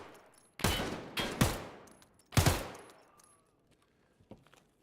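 Rifle fire in Escape from Tarkov from a fast-cycling bolt-action-style gun: four sharp, loud close shots in quick pairs with short decaying echoes, then quiet, with a faint distant crack near the end.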